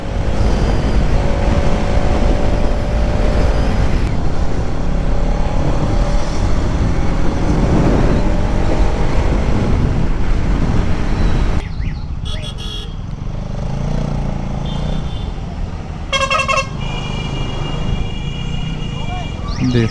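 Bajaj Pulsar NS200 BS7 (2024, USD fork) ridden at speed on a highway, its steady engine and wind roar loud throughout, easing in the later part where passing traffic and brief horn toots come through.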